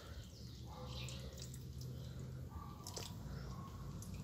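Water trickles and seeps into small cups of soil planted with passion fruit seeds, a soft steady wet fizzing and dripping close by with no talking.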